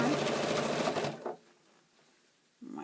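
A sewing machine runs steadily while stitching quilt binding, then stops for over a second before briefly starting again, with a voice talking over it.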